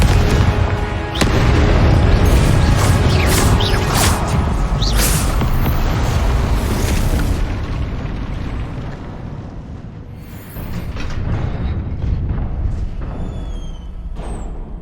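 Confringo fire spell explosions in Hogwarts Legacy, a loud sustained barrage of booming blasts and crackling bursts layered over game music, fading slightly toward the end with scattered pops.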